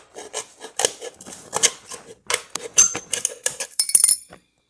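Thin metal is cut by hand with scissors or snips to make a homemade alcohol stove. Close, sharp snips and raspy scraping come in irregular bursts with short gaps between them, alone and without talk.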